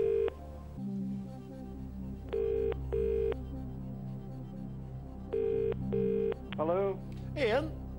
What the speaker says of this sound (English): Okay, right, we'll phone Ian